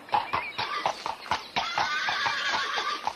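Rhythmic clip-clop of horse hooves, close and steady, with a whinny rising over the hoofbeats partway through.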